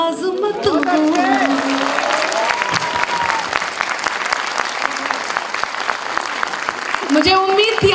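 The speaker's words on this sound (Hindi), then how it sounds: "थोड़ा सा और तालियों को घनीभूत करें" Applause from a kavi sammelan audience at a Hindi poetry recital, a dense, sustained clapping that fills most of the stretch, with a voice speaking briefly at the start and again at the end.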